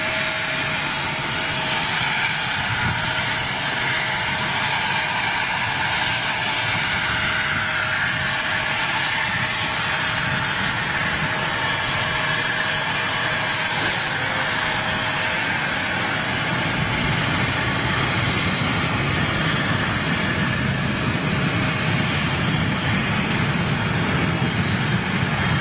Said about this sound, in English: The Aer Lingus 146